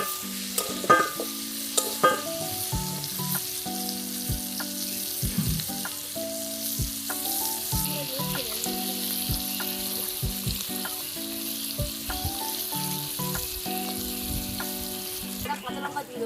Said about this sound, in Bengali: এবার পেঁয়াজটা দিয়ে দেবো।